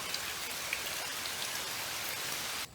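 Steady rain shower falling on a durian farm in the rainy season, a dense, even hiss of drops hitting leaves and surfaces that holds constant throughout before cutting off abruptly at the end.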